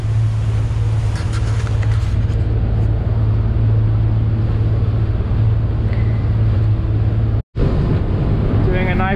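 A boat cruises at 21 knots near Bluff Island, Hong Kong, its engine a loud continuous drone mixed with wind buffeting the microphone, briefly cutting out near the end.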